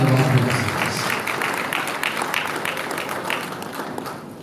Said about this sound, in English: Please let's give him a big round of applause, a very resounding round of applause